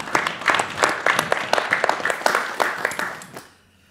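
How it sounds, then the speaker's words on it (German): Applause from a modest audience at a literary reading, individual claps clearly distinguishable in an uneven patter that thins and stops near the end, leaving quiet. "Auch ein Applaus."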